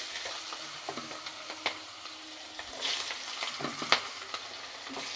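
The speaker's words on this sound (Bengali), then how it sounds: "এবার একটুখানি পেঁয়াজটাকে লাল লাল করে ভেজে নেব" Chopped onion and cumin seeds frying in hot oil for a tilapia and cauliflower-potato curry, giving a steady soft sizzle with scattered sharp crackles and occasional spoon-stirring clinks, close and fairly quiet.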